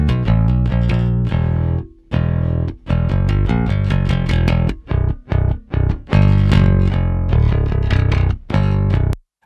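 Bass guitar with a clanky metal tone, compressed with FabFilter Pro-C2 in opto mode, plays a loud distorted riff of short punchy phrases broken by brief gaps, with no talking.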